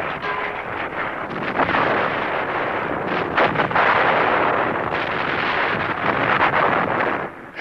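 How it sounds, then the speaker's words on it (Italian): Artillery fire from Finnish cannons in a wartime forest battle, heard as a continuous, loud rumble of booms and blasts with wind-like roar throughout, no speech. "Cannoni finnici ribattono colpo per colpo."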